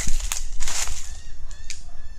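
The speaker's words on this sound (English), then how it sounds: "oh, that's a bird." Loud, goose-like honking from a bird in a church street graveyard: several harsh, close calls in quick succession, with no speech.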